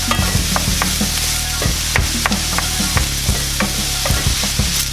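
Vegetables and sausage sauté in a pan for a breakfast frittata, a steady close sizzle broken by repeated scraping stirs and clacks of a utensil against the pan, with no voices.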